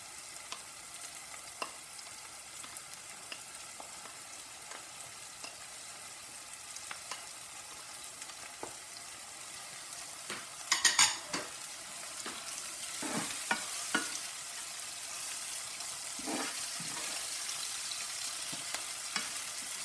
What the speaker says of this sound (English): I fry the onions just a little bit. Then I'm going to add my chopped up pepper.